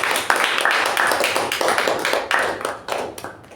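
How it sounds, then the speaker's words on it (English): An audience at a Toastmasters club meeting claps for a speaker, a close, lively burst of hand claps with distinct sharp slaps that tapers off toward the end. "A big round of applause to Toastmaster Dharmender."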